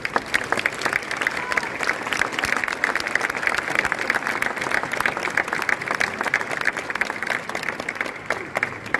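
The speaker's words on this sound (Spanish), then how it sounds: "Para ellos pido un fuerte aplauso." Audience applause at an event in Vitoria-Gasteiz, steady dense clapping from a crowd sustained throughout at even loudness.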